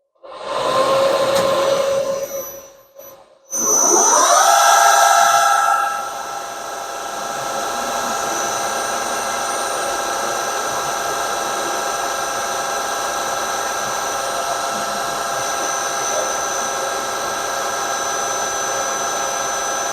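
A drill on a pillar-style setup bites 5mm deep into a steam engine slide valve part, giving a loud whine that cuts out, restarts, then settles into a steady, high, ringing cutting tone.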